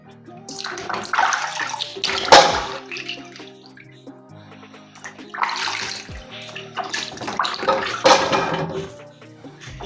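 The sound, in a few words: washing mangoes under running water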